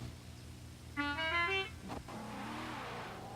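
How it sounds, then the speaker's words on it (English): A car horn sounds once in a steady, held blast of about a second at a racing start line during a qualifying session, followed by an engine rumbling as the car pulls away for a rolling start. "whenever you're ready, honk your horn and then you may go"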